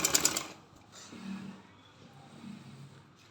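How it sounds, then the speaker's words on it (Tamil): A sewing machine stitches a hem on panties in a short, rapid mechanical burst at the start, then falls to near quiet with faint low rumbles. "இங்கே ஆஃப் இன்ச் மேலே ஒரு தையல் போட்டுக்கலாம்"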